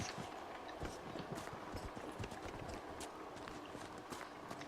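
Horse hooves clip-clop steadily through the Dragon Age Inquisition game, a continuous trotting rhythm of dense repeated hoof strikes over ambient game sound, with no talk.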